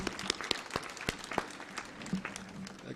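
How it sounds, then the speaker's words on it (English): An audience at the Technical University of Kenya graduation ceremony claps for the graduating students, with sharp, scattered individual claps ringing out at uneven intervals in a large hall, moderately distant. "We can applaud the students once again."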